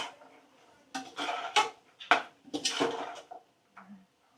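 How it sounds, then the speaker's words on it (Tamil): Mushrooms being sautéed in a pressure cooker for a lunch box dish, heard as a run of close, sharp metallic scrapes and clanks of a ladle against the pot in irregular bursts, with a faint voice briefly near the end. "அது கூட அப்படியே காளானை சேர்த்து வதக்கிப்போம்."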